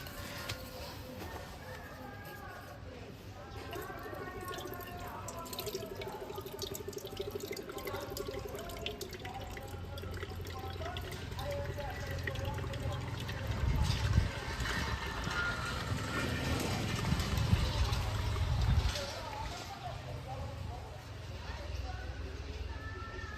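Water from a coconut splashes and trickles steadily into a container for about twenty seconds, growing louder near the end, with a voice speaking over it.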